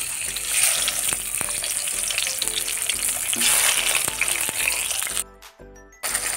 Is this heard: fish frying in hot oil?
yes